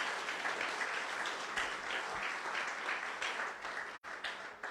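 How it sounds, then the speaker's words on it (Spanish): Applause from a church congregation at a Spanish-language sermon, sustained clapping from many hands for a few seconds, fairly close, with a brief dropout near the end. "Dele un aplauso a Praise Jesucristo."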